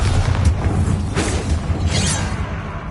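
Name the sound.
Bombarda blasting spell explosion in video game Hogwarts Legacy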